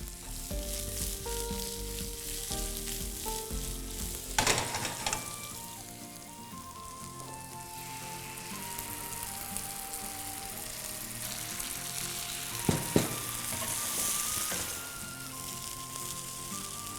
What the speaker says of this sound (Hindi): राई को करते हैं पॉप, दूसरी साइड डाल देते हैं कड़ी पत्ता